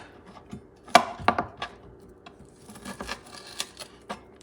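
A knife cuts a piece of meat off the bone for Madrid chickpea stew: a few sharp cuts and taps against a board, then softer scraping and rubbing, all close and without talk.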